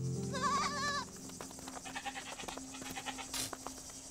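Goats and sheep bleat in a quavering burst near the start, followed by fainter farm-animal calls and scattered rustling from a small herd.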